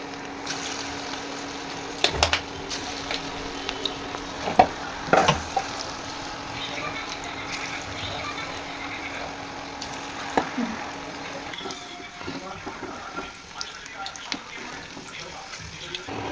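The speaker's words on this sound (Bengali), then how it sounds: "তেলটা গরম হয়ে গেছে, এবারে পকোড়া দিয়ে দিচ্ছি" Cabbage pakoras dropped into hot oil to deep-fry, a continuous bubbling sizzle with occasional splashes and utensil knocks, close by, while someone talks over it at times.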